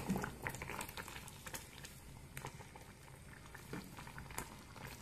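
Gravy with garam masala and coriander simmering in a pot, a soft continuous bubbling with small irregular pops and plops, quiet and close, no talking.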